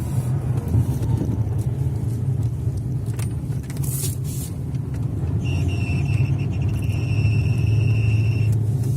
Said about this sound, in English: You got some wheel bearing noises